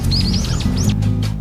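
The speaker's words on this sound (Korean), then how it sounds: "새소리도 들리고" Small birds chirp and warble in a quiet old park near the sea in Yeosu, a string of bright rising tweets over a steady low hum of background noise.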